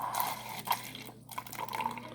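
Water runs and drips out of a Samsung refrigerator water line as the pressure is released, a close, uneven trickle with small splashes and gurgles.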